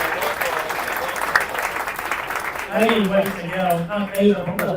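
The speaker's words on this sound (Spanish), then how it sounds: "Un fuerte aplauso, por favor" A steady wash of audience applause at a Spanish-language talk on bitcoin-backed loans, continuing under a voice thanking the crowd.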